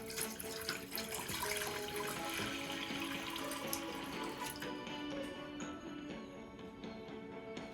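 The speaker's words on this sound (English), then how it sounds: "Into our pan, I'm going to add in the water." Water pours steadily into a non-stick pan, a continuous splashing trickle close by that softens slightly toward the end.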